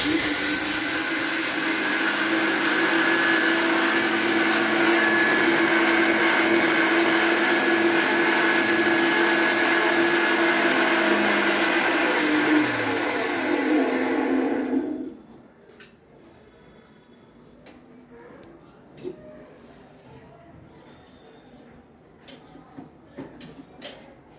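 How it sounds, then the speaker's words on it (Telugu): A kitchen mixer grinder whirs loudly and steadily as it grinds peeled roasted peanuts, the motor running continuously for about fifteen seconds before stopping abruptly, leaving quiet room noise with faint knocks. "మిక్సీ పడదాం."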